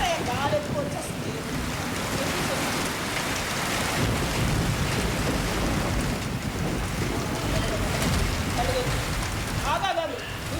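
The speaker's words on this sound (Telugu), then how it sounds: "ఏదయ్యా గాలి ఎక్కువ వచ్చేస్తుంది." Strong wind roars in a steady, dense rush for the whole stretch, with a faint voice breaking through near the start and again near the end.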